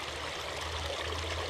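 A river runs beneath a road bridge near Buxton, a steady, broad rush of flowing water that fills the moment without pause or change.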